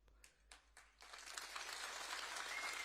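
Political rally crowd in Mandi, Himachal, bursting into applause: a few scattered claps at first, then sustained, dense clapping that swells and holds, heard from within the crowd.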